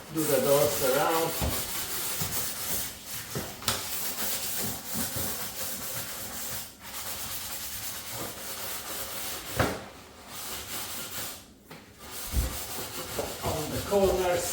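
A cloth rubs and wipes over glossy kitchen cabinet doors and their edges during cleaning, making continuous close scrubbing and swishing strokes with brief pauses.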